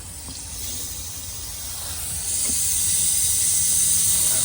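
Compressed air hissing into the cooling system of a high-mileage Volvo being pressure-tested for a leak, a steady broadband hiss that grows louder and fuller halfway through.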